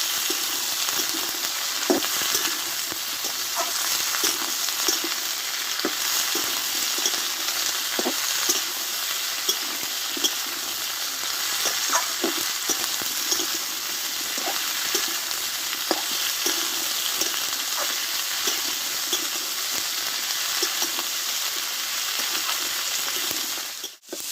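Cauliflower-stem vegetables with slit green chillies and whole cumin fry in a pan with a loud, continuous sizzle. Light spoon clicks and scrapes from stirring break through it now and then, heard close with no talk.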